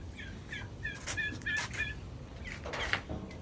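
A chicken clucks and calls in a short series of bursts outdoors, fairly close, over a low background rumble with no clear talk.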